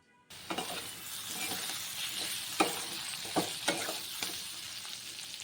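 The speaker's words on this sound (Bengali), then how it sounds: "আলুটাকে ভাজা হতে দেবো" Potatoes frying in a pan for a vegetarian banana-stem dish give a steady close sizzle, broken by a few sharp clinks of a utensil against the pan, with no talking.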